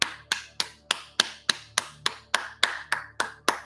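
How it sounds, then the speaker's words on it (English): Steady hand clapping, about a dozen sharp, evenly spaced claps over a few seconds, close and distinct with no talking. "I gotta clap for peoples, especially my peoples. Like I gotta clap."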